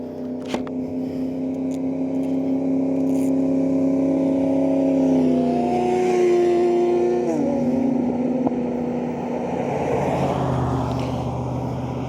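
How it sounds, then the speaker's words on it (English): Motorcycle engines hum steadily nearby, with rising and falling pitch as bikes pass and rev; no one speaks. "can hear other bikes coming"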